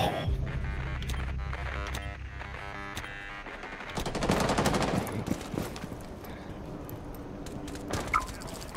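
Automatic weapon fire in a Rainbow Six Siege bomb match on the Consulate map, a loud, dense run of rapid shots over the first half. It gives way to more scattered cracks and game effects.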